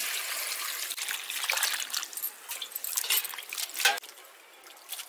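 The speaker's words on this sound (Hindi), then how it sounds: "तो सब्जी को हम धो लेंगे" Drumstick vegetables being rinsed in water in a home kitchen. Water splashes and trickles steadily, and pieces and a pot clatter now and then, close up, with no talking.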